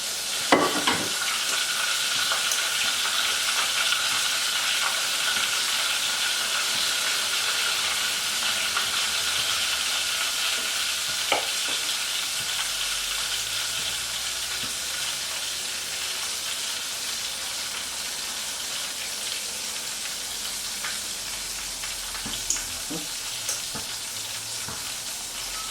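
Buttered burger buns sizzle steadily in a hot pan, a continuous close frying hiss with a few soft clicks and scrapes scattered through, no voices.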